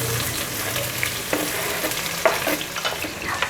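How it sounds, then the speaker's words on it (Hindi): Roughly chopped onions frying in hot oil for dhaba-style mash dal, a steady close sizzle and crackle with a few brief stirring scrapes, no voices. "इन प्याज़ों को हमने अच्छी तरह फ्राई करना है"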